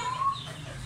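A desi hen gives a short, faint cluck against a low background hum.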